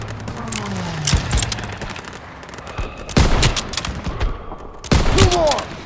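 Anti-aircraft flak gun fires in Call of Duty WW2 combat, delivering sharp, booming shots around 1, 3 and 5 seconds amid continuous battlefield gunfire and rumble, with occasional shouting voices in the mix.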